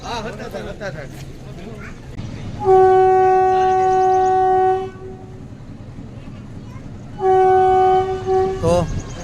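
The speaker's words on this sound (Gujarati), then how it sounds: "સત્તાધારથી નીકળી ગઈ છે આપણી ગાડી" A metre gauge train pulls out of the old Sattadhar station, sounding two long, loud horn blasts separated by a pause, over a background of rolling rumble and nearby voices.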